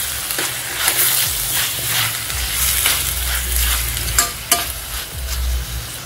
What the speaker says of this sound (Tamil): தக்காளி சேர்த்துடலாம்.